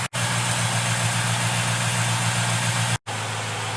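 Lexus GX 460 with active off-road bump stops driving on its normal suspension setting, a steady low engine drone and road hum inside the cabin, broken by two brief dropouts; no talk.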